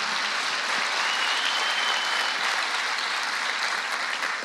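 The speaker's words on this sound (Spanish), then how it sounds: "Entonces pido un fuerte aplauso para ellos" Studio audience at a live talk show breaks into sustained, dense applause, a loud and even wall of many hands clapping without pause and no one speaking over it.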